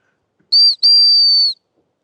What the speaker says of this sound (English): I'm gonna blow that whistle